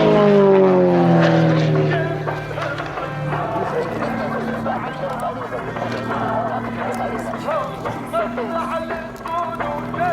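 Extra EA300L aerobatic propeller aircraft at an air show, its engine note sweeping down in pitch as it passes, then a fainter buzzing drone, with a commentator talking over it and crowd noise.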